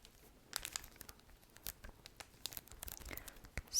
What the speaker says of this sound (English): I have these note cards that I think will make some good crinkly noises